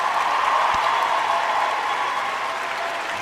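Sustained audience applause, steady and fairly loud for the whole stretch, a dense wash of clapping with no voices over it.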